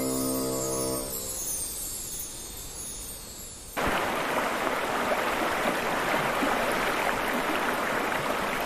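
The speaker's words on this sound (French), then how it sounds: "L'eau de la cascade des Marmores entame son voyage dans les montagnes" Steady rushing water from the Marmore waterfall cascade and river fills the scene, starting softer under fading music and then surging louder and constant.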